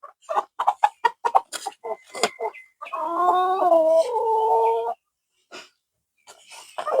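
Tiger breed chickens and roosters on a farm, a run of sharp rhythmic clucks followed by a drawn-out raspy call, close and clear with quieter clucks trailing off.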